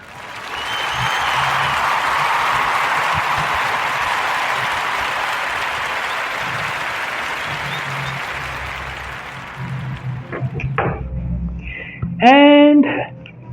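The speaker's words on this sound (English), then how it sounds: "round of applause for Per Home" Sustained applause from a live audience fills the space for about ten seconds, then tapers off as scattered voices and a speaking voice come in near the end.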